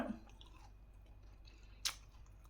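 Someone chews crispy leftover food, close and quiet, with soft crunching and one sharper crunch near the end, without talk.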